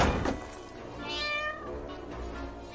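A cat in the film Matilda lets out a single soft, drawn-out meow, faint and somewhat distant over low background noise.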